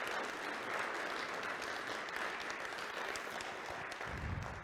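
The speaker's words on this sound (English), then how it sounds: "One more round of applause for our panelists." Audience at a Toledo Rotary club meeting applauding panelists after a rare diseases panel; steady, even clapping from a roomful of people that holds through the whole stretch.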